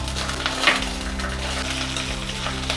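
Mustard seeds, cumin and peanuts spluttering in hot frying oil, a steady close sizzle and crackle with a faint clink of a utensil partway through.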